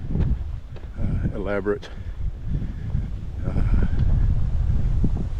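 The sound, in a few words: strong wind on a hiking trail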